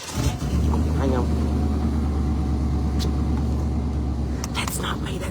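A car pulls out of a parking spot nearby with a low, steady engine rumble close by, carrying on under someone talking.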